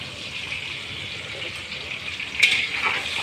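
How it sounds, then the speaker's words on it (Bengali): Onions frying in a pan for chicken biryani, a steady close sizzle with a brief louder burst of spatter partway through. "পেঁয়াজ, এবার এগুলো আমি ভালো করে ভেজে নেব"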